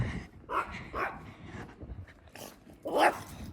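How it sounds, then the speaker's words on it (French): A dog barks a few times in short separate bursts, moderately close, with quieter gaps between barks. "Je vois bien qu'il y a un chien là."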